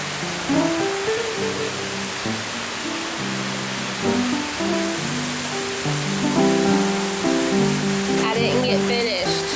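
Steady broadband rush of rain pouring down, dense and continuous, with a low engine-like hum underneath and a brief clatter near the end.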